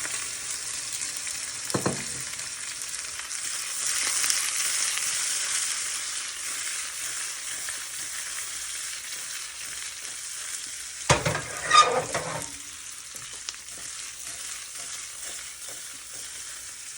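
Stuffed okra curry (bhindi shaak) sizzling in a pan, with a steady faint frying hiss throughout and two brief louder bursts of stirring or scraping partway through, no voices.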